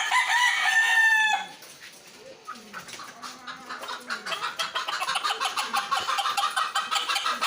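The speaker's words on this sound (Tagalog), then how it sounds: "So, ayun nga, gigil na yung mga manok ko." A rooster crows loudly up close, then chickens cluck in a quick, choppy series that keeps getting busier and louder.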